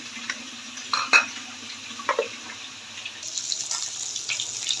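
Water poured from a tap or jug onto chopped raw ginger in a blender jar in a home kitchen, a few short splashy bursts followed by a steadier trickle, fairly close with kitchen clatter around.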